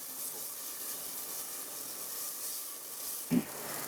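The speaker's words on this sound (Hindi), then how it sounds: "अब हम इसमें 1 टेबलस्पून लहसुन अदरक का पेस्ट शामिल करेंगे। और इसको थोड़ा मिक्स कर लेंगे।" Garlic-ginger paste sizzling in a pan for masala bhindi gives a steady, soft frying hiss throughout, with one brief clunk near the end and no voices.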